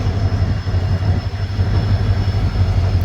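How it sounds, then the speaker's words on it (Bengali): A diesel EMD locomotive hauls a freight train past, a loud continuous rumble with a low engine drone and steady rolling wheel noise, no voices. "ডিজেল ইএমডি লোকোমোটিভ মালগাড়িকে টেনে নিয়ে যাচ্ছে"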